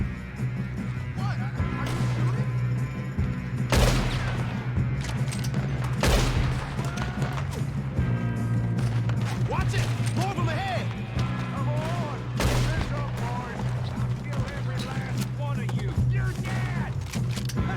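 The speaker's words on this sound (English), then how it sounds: "What? Are you shooting?" Rapid gunfire crackles through a Wild West shootout in a cowboy video game, with scattered shots and bursts over a steady music bed while voices talk throughout.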